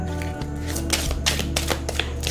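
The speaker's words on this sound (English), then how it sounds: "Overhand, it shuffles nicely." A tarot deck being shuffled overhand, a string of quick, crisp card slaps and riffles close to the microphone, loud and alone.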